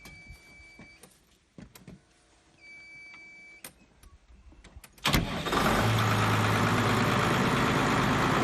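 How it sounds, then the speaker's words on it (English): Case 440 horsepower tractor on a grandparents' farm: quiet rattles and clicks, then the engine starts about five seconds in with a sharp burst and settles into a loud, steady, broadband running roar close by. "And that tractor is a Case 440 horsepower tractor."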